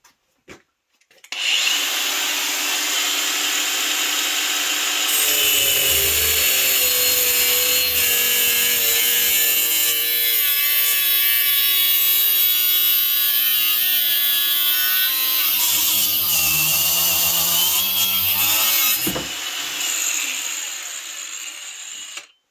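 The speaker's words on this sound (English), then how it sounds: "So I'll start grinding them up, and we'll weld them, fabricate them up" A Bauer power grinder from Harbor Freight working on metal brackets for a Fisher Homesteader snowplow upgrade, a loud, steady, unbroken grind running for nearly twenty seconds that dips and shifts in pitch partway through, then cuts off.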